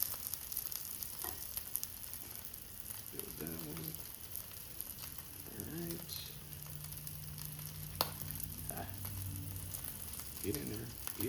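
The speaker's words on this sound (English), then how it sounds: "Push them down and get a little sizzle going." Beef sizzles steadily in a hot frying pan, a soft crackling hiss with occasional scraping clinks, while someone speaks briefly nearby.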